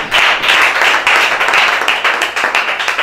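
A church congregation applauds William Branham with loud, sustained clapping from many hands, dense and even throughout.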